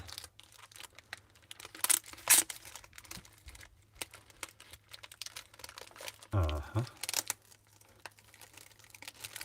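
A wrapped package is peeled open by hand, giving close crinkling and tearing of wrapping in irregular bursts, with a few louder rips over a low background hum.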